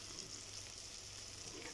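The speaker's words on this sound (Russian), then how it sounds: "кусочки я разложила на сковородке и буду жарить свое филе" Cod fillet fries in cold-pressed coconut oil in a pan, giving a steady, soft crackling sizzle that carries on evenly throughout, close by and with no talking.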